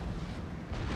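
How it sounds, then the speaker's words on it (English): Cannon fire in the Total War: Thirty Years War strategy game, a dense rumbling roar of booming shots blending into a continuous loud barrage across the short moment. "Cannons"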